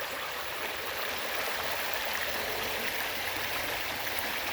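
Creek water spilling over a stone dam, a steady broad rushing and splashing flow at close range, even in loudness throughout with no voices.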